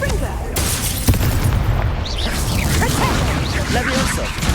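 Confringo fire spell explosion in the video game Hogwarts Legacy, a burst and booming whoosh over dense battle noise, loud and close.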